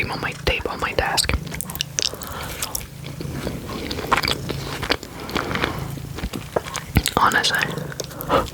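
Close-up ASMR eating mouth sounds from a person sampling US treats, with soft biting, crunching and chewing pops repeating through the stretch, intimate and near, over a faint low hum and occasional whispery breath.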